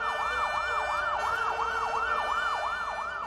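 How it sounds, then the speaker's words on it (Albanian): Fire engine and ambulance sirens wail together as a memorial tribute, a loud, steady rising-and-falling electronic wail repeating rapidly with no voices over it. "U ndezën edhe sirenat e zjarfikësve e ndihmës së shpejtë si shenjë përkujtimi."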